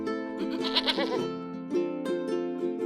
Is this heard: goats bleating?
yes